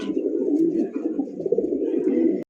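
Red Lahori pigeons cooing, a continuous thick throaty burble held loud and close for a couple of seconds before cutting off abruptly.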